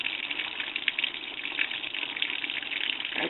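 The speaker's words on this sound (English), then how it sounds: "she might put some more water in" Water gushing steadily into a washing container with soap powder, a continuous splashing pour that stays loud and even throughout.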